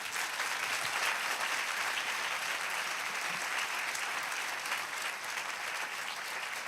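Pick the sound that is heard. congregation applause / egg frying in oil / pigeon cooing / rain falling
congregation applause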